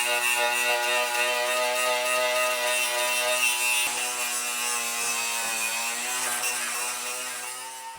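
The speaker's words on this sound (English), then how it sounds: "just wire wheeling to expose the Spot welds there" Wire wheel grinding a Monza's car body to expose spot welds, a continuous harsh, bright abrasive whirr with strong steady tonal whine that holds loud throughout and eases slightly near the end.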